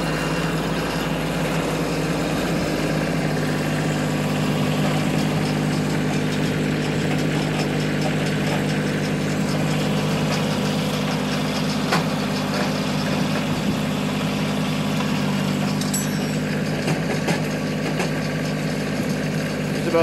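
A Kioti CK2610SE cab tractor runs a Wallenstein FX40 winch, pulling a roughly 60-foot standing-dead log out of the bush, with a steady, loud engine drone throughout and a few faint creaks over it.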